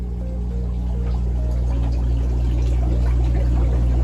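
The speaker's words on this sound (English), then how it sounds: "That is a bubbling cauldron of organic fertilizer." Liquid organic fertilizer pours and gurgles in a steady, continuous stream, with faint bubbling over a constant low machine hum.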